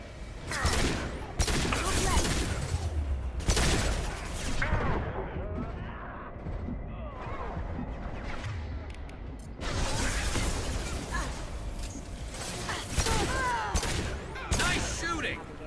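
Gunfire in the science-fiction shooter Mass Effect 2, repeated loud bursts of shots coming in several heavy volleys with short quieter gaps between them, alongside game voices and other combat noise.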